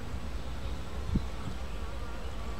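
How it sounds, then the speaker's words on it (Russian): Bees fly around a swarm trap outdoors, producing a steady, close, continuous buzzing hum with a brief soft thump partway through. "Третий день пчелки летают."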